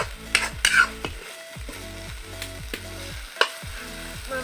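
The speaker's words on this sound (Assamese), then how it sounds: "মাংসটোৱে পানী নেৰালৈকে ভাজি থাকিম।" Chicken pieces fry in a pan with a continuous close sizzle, broken by several sharp scrapes and clanks of a utensil stirring the meat, with no voices.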